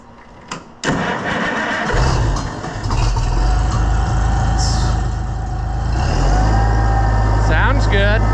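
The engine of an ailing SICK 1650 on a service call is given some choke and catches. It settles into a loud, steady low running rumble that keeps going and grows heavier toward the end.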